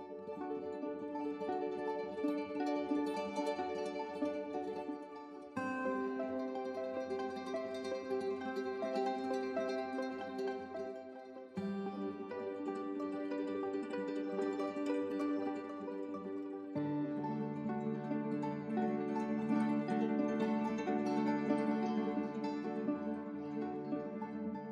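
A Kithara guitar preset plays a major arpeggio as single notes, sustained harmonic tones ringing in several phrases of steady, even loudness with no voices.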